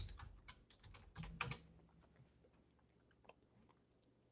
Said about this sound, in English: let's type in Sofia Lamb